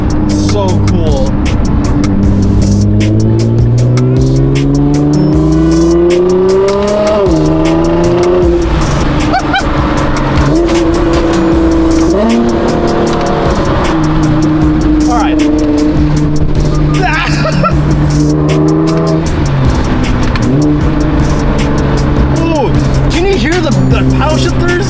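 A Nissan GTR R35 runs after its first start of the season, a loud engine revving and settling with rising and falling pitch, close up, while someone talks over it.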